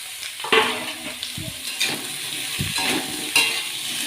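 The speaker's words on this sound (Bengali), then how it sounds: "পেঁয়াজটা আমার হালকা ভাজা হয়ে গেছে, এখন আমি কুমড়োটা দিয়ে দেব" Lightly fried onions sizzle in a pan as pumpkin goes in for a Bengali kashi phal sabji, with a steady frying hiss broken by several sharp scrapes and clinks of stirring.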